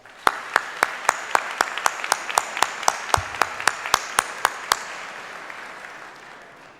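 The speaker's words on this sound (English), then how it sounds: "let's give him a well-delivered round of applause." An audience at a business awards event claps in a steady round, sharp regular claps standing out over a softer bed of applause that fades toward the end.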